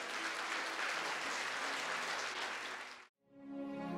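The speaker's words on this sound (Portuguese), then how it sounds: "Aplauda Jesus." A church congregation applauds for Jesus, a steady wash of clapping that cuts off suddenly near the end, followed by a brief fade back in of quieter sound.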